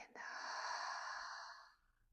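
During a back-stretching exercise, a single deep exhale through the nose or mouth is heard close up. It is breathy and sustained for about a second and a half, then fades to quiet.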